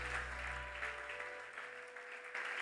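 A congregation in church applauds the Lord, a steady wash of clapping hands throughout, moderately loud and continuous, with a faint sustained tone underneath.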